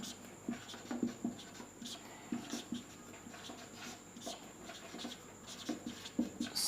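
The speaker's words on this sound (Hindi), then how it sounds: "यहाँ पे हम लिख देते हैं कि" An equation being written out by hand, heard as soft scratchy strokes in short bursts and taps, fairly faint and close, with brief pauses between marks and no talking.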